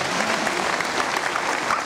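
A crowd claps steadily at the outdoor "Bezpieczny Olsztyn" concert in Olsztyn, a dense, even wash of many hands at moderate loudness with no pauses.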